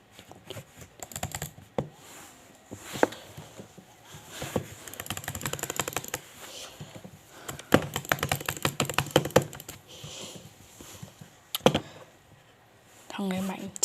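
Computer keyboard keys clatter in rapid, irregular bursts throughout a PvP game session, close and crisp, mixed with mouse clicks and occasional talking.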